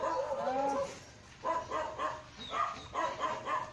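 Stray dogs give short whimpers, then a run of rhythmic yelping barks at close range, loud over a low background hum.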